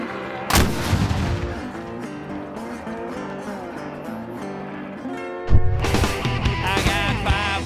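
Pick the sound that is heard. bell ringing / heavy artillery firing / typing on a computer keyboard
heavy artillery firing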